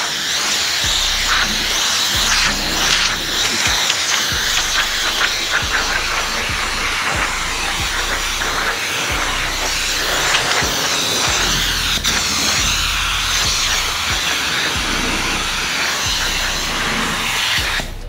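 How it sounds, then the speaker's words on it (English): Compressed air hisses steadily beneath a sanding pad working Norton superflexible film at 1200 grit, a continuous loud broadband rush with faint low pulsing from the sanding strokes, no voices. "So just blow a little air under here."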